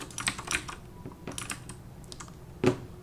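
Scattered keystrokes on a computer keyboard click sharply and close by while someone codes in Sonic Pi, coming in irregular small clusters separated by brief pauses.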